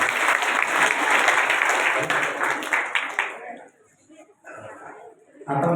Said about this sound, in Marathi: सर्वांसाठी एकदा टाळ्या वाजवा